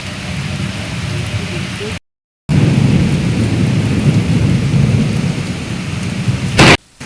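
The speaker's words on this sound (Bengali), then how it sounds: "আষাঢ়ের প্রথম বৃষ্টি শুরু হয়ে গেছে, অন্ধকার আকাশ।" Heavy first monsoon rain of Ashadh pours under a dark sky with thunder, a loud, steady roaring downpour that cuts out briefly near the start and swells in a short burst just before the end.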